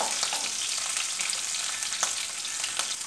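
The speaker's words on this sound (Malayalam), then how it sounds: "ഇനി നമ്മൾ അരിഞ്ഞു വെച്ചിരിക്കുന്ന പച്ചമുളക് ഇതിലേക്ക് ചേർത്ത് ഒന്ന് വഴറ്റുക" Chopped green chillies and curry leaves sautéing in hot oil for mutton curry, a steady close sizzle and crackle with faint stirring scrapes throughout.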